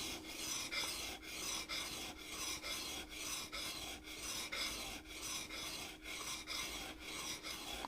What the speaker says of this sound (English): let's carry on with the 500 grit Waterstone.